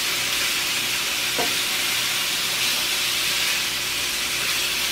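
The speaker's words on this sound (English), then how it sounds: "show me cooking it for a few seconds. And I only put a little bit of oil, and this steak should cook up fast." A steak fries in a pan with only a little oil, giving a steady, loud, even sizzle and hiss that runs without a break.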